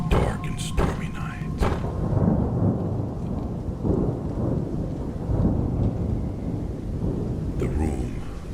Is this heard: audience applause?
no